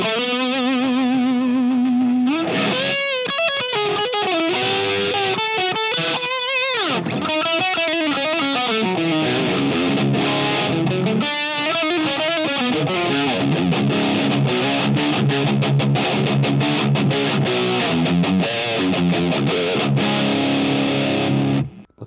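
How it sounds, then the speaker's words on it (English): Electric guitar played through a Laney Pro-Tube AOR 30-watt tube combo with an SD-1 overdrive pedal, giving a loud, driven, sustained tone with chords and lead lines that continue steadily with no talking. "And then when you throw the SD one on,"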